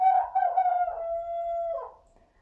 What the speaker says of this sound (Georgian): არ გაგიკვირდეთ ეს მამალი ყივილს ასწავლობს